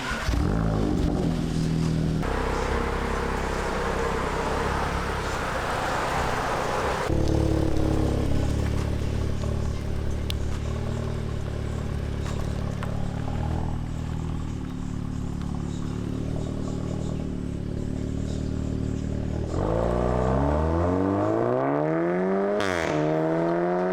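A loud car exhaust, a Remus valved system with valves open, drones continuously, its tone shifting as it revs, then climbs through several sharp revving sweeps near the end.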